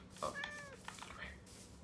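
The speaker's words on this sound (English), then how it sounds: "Oh no, that's a cat." A cat in the Minecraft video game gives a few short, faint meows, one clear rising-falling cry followed by softer mews amid quiet game background.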